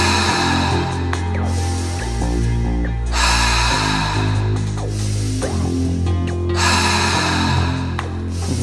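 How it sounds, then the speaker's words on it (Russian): Slow, rhythmic breathing during an energy-breathing practice, each breath drawn in through the nose and let out through the mouth, loud and close with long airy cycles repeating steadily and no talk over it. "Вдох носом, выдох ртом."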